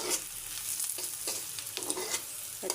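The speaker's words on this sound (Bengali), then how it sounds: "আমি ভেজে নিচ্ছি।" Fish fries in a pan with a steady, close sizzle and crackle, broken by occasional stirring scrapes, and no one speaks.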